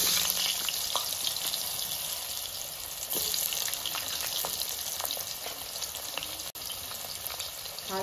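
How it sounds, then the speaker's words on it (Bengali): Potato pieces frying in oil in a pan, the same oil just used to fry fish, give a steady close sizzle throughout with light clinks and stirring scrapes and no talk. "এবার আমি আলুগুলো ভেজে নিচ্ছি ওই একই তেলে"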